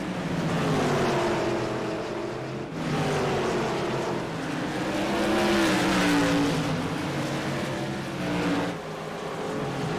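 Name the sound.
stock cars racing at Southern National Motorsports Park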